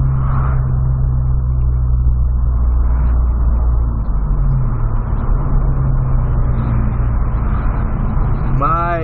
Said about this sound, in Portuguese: Não vou acelerar muito, porque como eu tô conhecendo o carro agora, né?